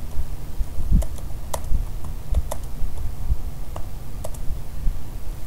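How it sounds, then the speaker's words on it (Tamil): Typing on a computer keyboard while working in Microsoft Publisher: irregular clusters of close, crisp key clicks with occasional louder taps, steady and alone with no talking. "இப்போ போய் டைப் பண்ணி."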